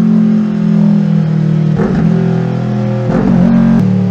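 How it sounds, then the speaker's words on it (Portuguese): A Kawasaki Ninja 400 motorcycle with a sports air filter idles with a steady drone, then revs sharply twice in quick succession, loud and close, before settling back to idle. "olha a moto acelerando aqui para vocês"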